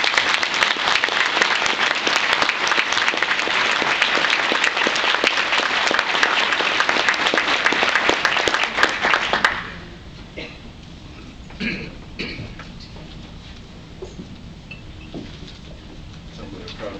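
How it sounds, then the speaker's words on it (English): A warm round of applause rises from a conference audience for a university president, loud, dense clapping that runs steadily for about nine seconds, then stops abruptly, leaving faint room noise and scattered small sounds. "please join me in a warm round of applause for President V."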